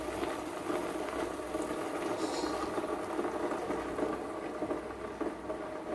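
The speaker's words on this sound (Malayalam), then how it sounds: "ശബ്ദം കേട്ടാൽ മനസ്സിലാവും എണ്ണയ്ക്കകത്തോട്ട് വെള്ളം ചെന്ന്." Water hits hot oil in a pot of jackfruit being cooked, producing a steady close bubbling sizzle that runs on evenly throughout, without speech.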